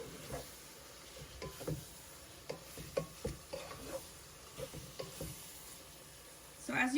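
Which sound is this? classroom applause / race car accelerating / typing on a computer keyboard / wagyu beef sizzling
wagyu beef sizzling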